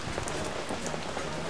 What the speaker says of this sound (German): Aber wusstet ihr auch, dass so viel regnet?